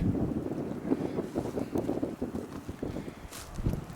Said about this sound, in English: you can probably hear the wind kicking up in here pretty good